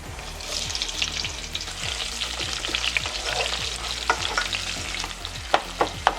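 Garlic and sliced onions sizzle steadily in hot oil, with a bright, continuous frying hiss and soft scraping taps from stirring throughout, close and without talk.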